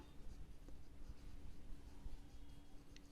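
Pen scratching on paper as a math formula is written quickly, soft continuous strokes with small taps, close and quiet, no speech.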